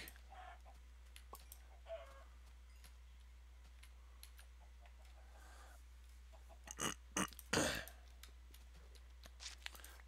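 Minecraft chicken sounds: a few soft, sparse clucks over a low hum, with a cluster of louder clicks and sharp bursts near the end, mixed with keyboard typing.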